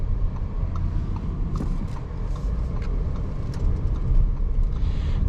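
A 2022 Audi A6 55 Premium Plus driving at low speed on a road toward a dead end, with a steady low engine and road rumble heard from inside the cabin and light tire noise throughout.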